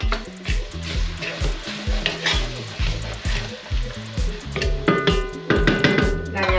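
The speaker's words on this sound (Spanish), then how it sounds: "Y una vez que esté caliente, le vamos a añadir toda la verdura. La zanahoria, la cebolla y los dos pimientos," Carrot, onion and red and green peppers frying in hot oil in a pan, a steady dense sizzle with scraping stir sounds and clatter, close and fairly loud, building a little busier toward the end.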